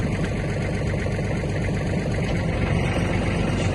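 Kubota GL300 mini tractor with a cab and 30 hp engine running steadily, a dense continuous drone and mechanical hum held at constant level.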